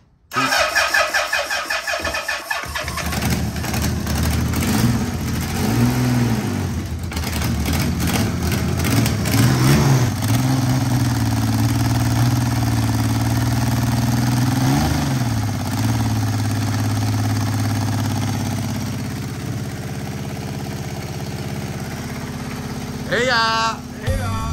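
A Yamaha XS850 motorcycle engine cranks and catches, then runs loud and steady with a few revs rising and falling before settling to idle, and a brief shout near the end.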